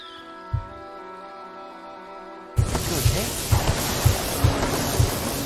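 A lightning spell cast in Fable Anniversary erupts suddenly midway as a loud crackling roar over quiet background music, followed by a series of heavy rhythmic thumps.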